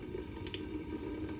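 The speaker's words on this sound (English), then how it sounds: "I'm gonna go ahead and turn the water on warm." Warm water runs steadily from a sink faucet during a handwashing routine, a continuous close hiss and splash with no talk over it.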